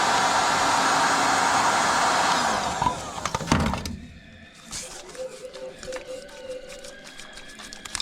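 Heat gun blowing a steady, loud roar onto a glued neutral safety switch connector on a GMT400 truck transmission, cutting off after about three seconds, followed by clicks and handling noises and a brief voice.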